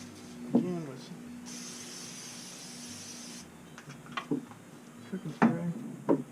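A steady aerosol spray of cooking spray hisses for about two seconds onto a charcoal grill, close and even, between brief bits of speech.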